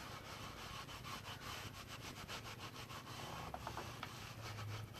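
A cloth rag rubbing oil over milk-painted wooden furniture, a steady dry scrubbing with quick repeated strokes that swish back and forth close by, with no talking.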